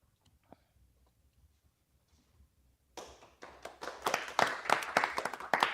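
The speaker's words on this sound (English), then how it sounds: "When she's done, just clap" A small audience at a wine bar and art gallery breaks into clapping after a quiet lull, starting suddenly and building into uneven, close applause from a modest crowd.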